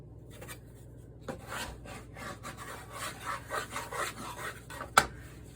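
Hands shape and tighten sourdough bread dough on a work surface, making soft rubbing and scraping strokes in an irregular rhythm, with one sharper tap near the end. The sound is quiet and close, with no talking.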